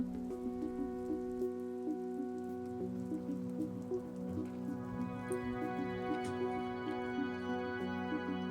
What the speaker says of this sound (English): This is our 4th straight day of rain